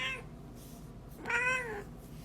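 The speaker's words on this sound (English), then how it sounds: "She was like, meow, meow, meow, meow." A cat meows twice, a short call and then a longer, rising-and-falling one, close and clear over faint background hiss, with no talking.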